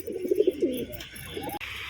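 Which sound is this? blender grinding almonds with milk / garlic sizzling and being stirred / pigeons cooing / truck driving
pigeons cooing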